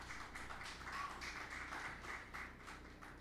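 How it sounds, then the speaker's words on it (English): A church congregation claps in a sustained patter of applause at moderate distance, steady throughout with a faint background hum. "give them a round of applause."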